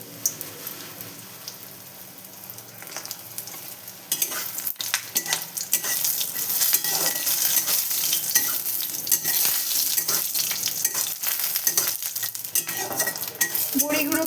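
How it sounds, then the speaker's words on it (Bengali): Lentil dumplings (bori) fry in hot oil, a quiet start giving way to a dense, loud, crackling sizzle with occasional spoon clinks against the pan, close up and without talk. "বড়িগুলোকে লাল লাল করে ভেজে নিচ্ছি।"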